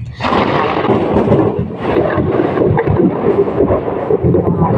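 A loud, continuous rumble of thunder rolls on for several seconds, deep and close, with a rough crackling edge.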